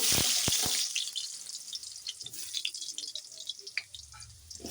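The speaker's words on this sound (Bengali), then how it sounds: "তেলে প্রথমে আলুগুলো ভেজে নেব" Potatoes going into hot oil in a wok, giving a brief loud splash and crackle followed by a soft, steady sizzle with scattered pops and light clinks.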